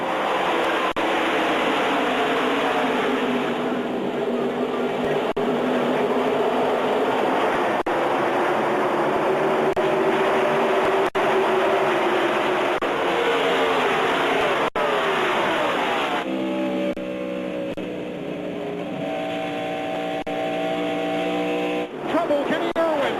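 Pack of stock cars starting a race in the NASCAR 2000 video game, a dense continuous engine roar with rising and falling pitch sweeps as the field pulls away, steady and loud from start to finish.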